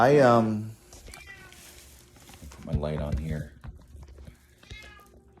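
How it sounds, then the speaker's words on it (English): A pet cat gives one loud, close meow at the start, followed by a quieter mew a couple of seconds later, while a person speaks briefly in between. "I could hear my kitty, my baby."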